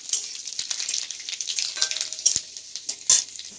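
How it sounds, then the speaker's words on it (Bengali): Panch phoron spices with dried red chillies and a bay leaf hitting hot oil for a kochur saag dish, a bright, close crackling sizzle with sharp pops scattered through it, steady and without speech. "দিয়ে দিচ্ছি পাঁচফোড়ন"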